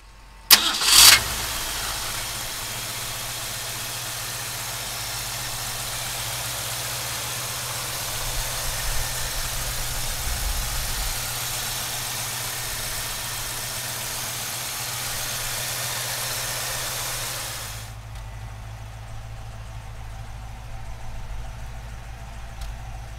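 A 1965 Ford Mustang engine cranks and fires with a sharp catch, then settles into a steady, loud idle that holds for about seventeen seconds before the noise cuts sharply and a faint low hum remains.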